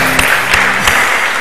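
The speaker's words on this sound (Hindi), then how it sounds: "बहुत सी तालियां।" Studio audience applause breaks out on a Ramadan quiz show after a correct answer, a steady wash of clapping with a few louder claps standing out, briefly under a faint voice.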